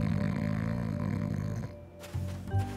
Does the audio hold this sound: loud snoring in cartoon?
yes